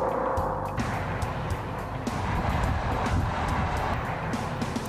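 Audi RS 6 Avant estate car with a 5-litre V10 engine, its deep, steady engine roar continuous and fairly loud throughout, with no voices.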